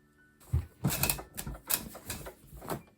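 Quick, repeated snipping and rustling bursts of scissors cutting through fabric for scrunchies, close by, with several cuts in an uneven rhythm.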